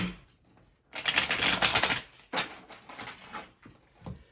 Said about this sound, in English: I know you all like to see the cards being shuffled